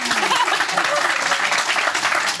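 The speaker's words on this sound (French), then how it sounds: "Vous pouvez applaudir." An audience at a live poker broadcast bursts into applause, a thick continuous patter of clapping heard up close, with voices talking over it.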